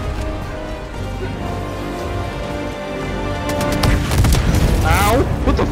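Grenade blasts in the Helldivers 2 video game, a cluster of sharp booms and crackling bursts building toward the end over a dense battle din, with voices talking throughout.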